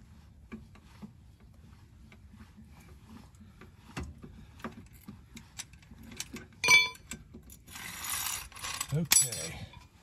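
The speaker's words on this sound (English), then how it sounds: "Now we're gonna take her down off the jack." A car jack under a Chevy is lowered counterclockwise, giving faint ratcheting clicks and mechanical creaks that build into louder metallic clinks and scraping near the end, with no talking.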